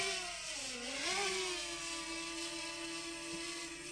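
A steady, high-pitched propeller buzz from a DJI Mini 2 SE drone hovering nearby outdoors, its pitch dipping and rising briefly before holding a constant whine.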